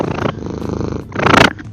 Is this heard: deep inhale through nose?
no